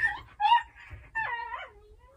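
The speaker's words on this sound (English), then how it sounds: "That dog does not want to share its food." A dog guarding its food whimpers and yips in a few short, rising whines close by, with no talking.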